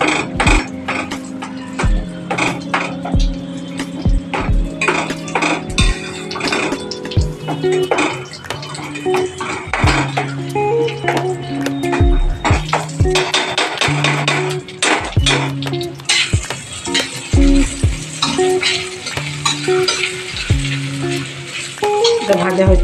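Cashew nuts frying in ghee in a pan for a homemade sweet, with continuous sizzling under repeated metallic clinks and scrapes of a spoon against the pan, fairly loud and close.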